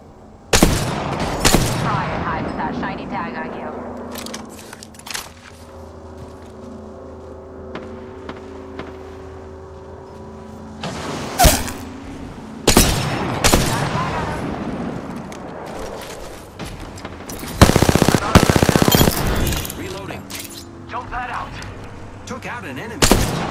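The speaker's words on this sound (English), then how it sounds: "Opening fire on the enemy." Gunfire in a shooter video game: loud, sharp shots in bursts and single cracks, separated by quieter stretches of game ambience, with spoken callouts and talk between them.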